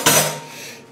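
Clinking scrape of a utensil stirring a homemade white paint mixture in a container, one sharp knock at the start then a short fading swirl, close and alone.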